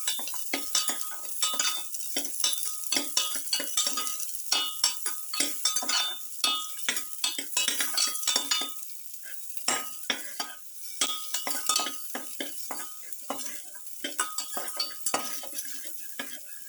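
A spatula scrapes and clinks rapidly in a pan while swordfish pilaf ingredients sauté, with a steady sizzle beneath the dense, busy stirring and no talking.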